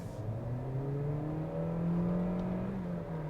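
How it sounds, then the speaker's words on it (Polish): The combustion engine of a BYD Seal 5 DM-i plug-in hybrid revs up smoothly, its pitch climbing steadily under a constant whirring hum, close and moderately loud. "Ten silnik spalinowy słyszymy dopiero w tych wysokich partiach obrotów."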